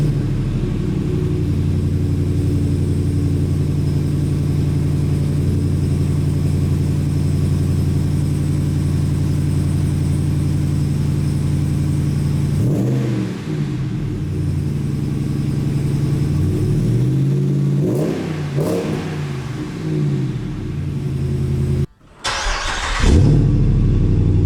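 A 6.4L HEMI Ram 2500 with an MBRP exhaust rumbles at a deep, steady idle for several seconds, then is revved in a few swelling blips, loud and close.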